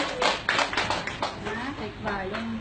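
A small group of people claps in congratulation, a short scatter of nearby hand claps mixed with excited voices talking over them.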